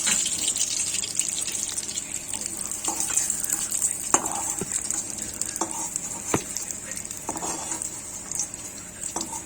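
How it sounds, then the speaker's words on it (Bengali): Rice is fried in a pan for pulao with a steady, soft frying crackle. Sharp scraping and clinking stir strokes land at irregular intervals, close by. "এরপর আমি চালটার মধ্যে ভেজে নেবো।"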